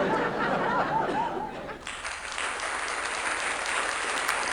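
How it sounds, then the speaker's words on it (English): A canned audience sound effect triggered from a Roland Fantom pad: a crowd laughing for a moment, then switching abruptly to steady, bright applause that carries on to the end. "the previous one I read in, which is basically the audience laughing and then applauding"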